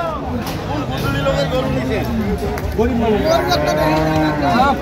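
Dairy cows and calves low repeatedly, close and loud, over a steady hubbub of people talking at a busy livestock market in Ambari, Dinajpur.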